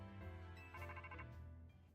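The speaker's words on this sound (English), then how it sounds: "Oops, that's my phone." A phone ringtone chimes in a bright repeating electronic pattern, fairly loud and close, over a steady low background hum, with no talking.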